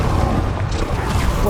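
A Confringo blast spell cast in Hogwarts Legacy makes a dense, loud, booming burst, sustained across the short moment amid a wash of other combat spell effects.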